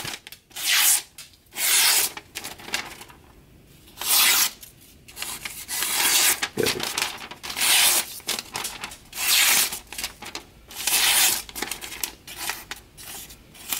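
A freshly sharpened knife slices through paper in a cut test, making repeated rasping, tearing strokes in bursts of about a second each, close and fairly loud, with no talking.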